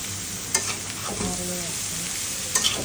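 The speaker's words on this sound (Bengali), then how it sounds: "এখন এটাকে ভালো মতো নাড়াচাড়া করবে।" Shredded cabbage and onion frying in a pan give a continuous close sizzle, with a couple of sharp stirring scrapes.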